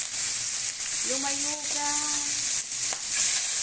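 Shrimp fry in a hot pan with a steady loud sizzle throughout, while a voice speaks briefly over the frying.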